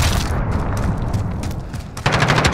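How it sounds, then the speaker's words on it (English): An enemy cruise missile explosion in Call of Duty: Modern Warfare, heard as a loud, dense rumbling blast with sustained crackling debris, then a sharp second burst near the end. "Enemy cruise missile incoming."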